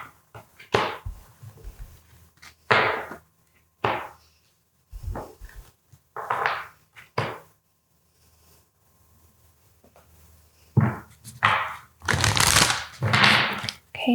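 Oracle cards being shuffled by hand in several short riffling bursts across the span, loud and close, with pauses of near-silence between handfuls.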